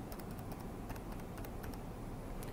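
Fast, close typing on a computer keyboard to enter a fax number, a dense run of clicky key taps over a steady background hum.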